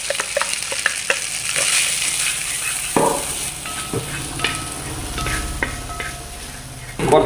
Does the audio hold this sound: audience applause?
no